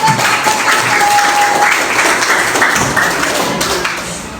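Applause fills a classroom as an audience claps steadily and densely for about four seconds, dense and close, tapering slightly at the end.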